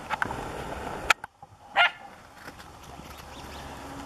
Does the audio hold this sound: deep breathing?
no